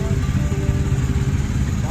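A motorcycle engine idles nearby with a steady, loud, low rumble, and a person's voice is heard over it.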